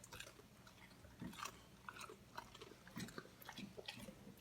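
A pet animal chews a cucumber, with soft crunches and wet bites spaced irregularly, faint and close against a quiet room.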